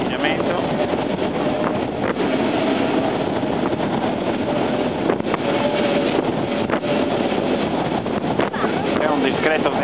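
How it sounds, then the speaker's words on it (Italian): Strong wind blows steadily around a Costa cruise ship at sea during a helicopter rescue, a loud broadband rushing that fills the whole stretch, with occasional gusts and buffeting against the microphone and faint engine-like rumble beneath. "C'è un discreto vento che può ostacolare"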